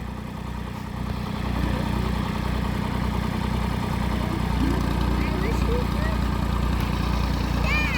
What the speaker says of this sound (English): running the tractor here for us